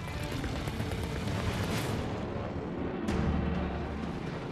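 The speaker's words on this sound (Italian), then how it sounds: "Sopra gli spari dei carri" Dense, continuous rumble of heavy tank gunfire and booms in a World War II battle, a sharp blast standing out near the end over a roaring background.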